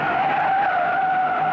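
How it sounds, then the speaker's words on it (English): A 1957 stock car slides through a turn on a dusty dirt track at about 115 mph, giving a steady, loud tire-and-engine whine that holds an even pitch throughout. "Owens slides and recovers at 115 miles an hour."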